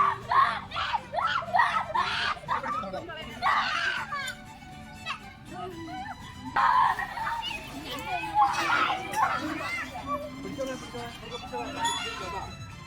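Children shriek and shout outdoors in bursts, a high-pitched scream from a child on a swing rising over playground chatter and nearby adult talk at a children's park in Thattekkad, Ernakulam.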